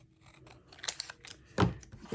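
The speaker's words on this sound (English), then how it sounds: "I'm going to go ahead and cut the excess off with my scissors" Scissors trim the excess paper off handmade catalog tabs: a few quiet, close snips and rustles, with one sharper cut near the end.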